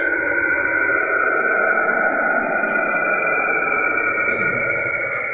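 Airplane flight sound effect, a steady loud roaring drone with a heavy processed, effects-laden tone, holding evenly throughout without a break.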